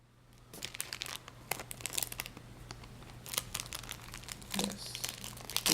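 Dried tacky glue is peeled off a plastic surface, a close series of crinkling, tearing crackles that grow busier and louder over a faint steady hum, with no speech.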